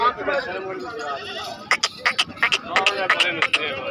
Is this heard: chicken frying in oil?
no